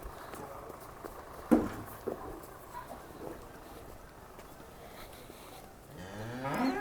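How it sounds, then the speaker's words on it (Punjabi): Cattle low and moo at a moderate distance, with scattered thuds and shuffling in between and a longer bellow near the end. "ਸਾਬਿਆ ਚਿੱਟੀ ਗਾਂ ਇੱਥੇ ਲਿਆ ਕੇ ਬੰਦੇ"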